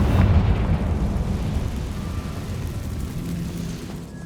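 A Confringo blasting curse detonates in the Hogwarts Legacy video game, a deep rumbling boom that rolls on and slowly fades over several seconds with no voices.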